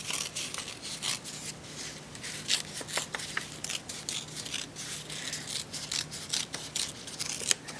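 Painted paper is torn by hand into pieces for a winter landscape collage, with a series of short, crisp rips at an uneven pace, close by and with no voices.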